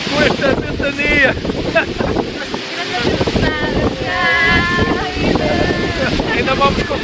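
Strong gusting wind buffeting a microphone outdoors at a van-life stop in Turkey, rumbling bursts of noise under ongoing talk from a speaker.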